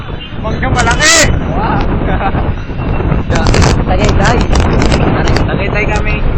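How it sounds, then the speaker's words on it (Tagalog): Strong wind at Tagaytay buffets the microphone in loud, continuous gusts while people talk and shout nearby. "Lakas po ng hangin."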